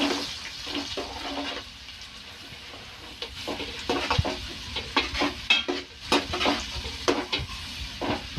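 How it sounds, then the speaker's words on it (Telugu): Sliced onions fry and sizzle in a pan for goat head curry, a close steady hiss broken by scraping stirs and clinks of the spoon against the metal. "ఉల్లిపాయలు బాగా చక్కగా ఏగే వరకు వేగనిద్దాము"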